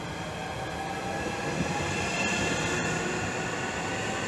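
Class 465 electric multiple unit 465168 passing through Swanley station, a steady loud rolling rumble and rail roar held for several seconds with no talk over it.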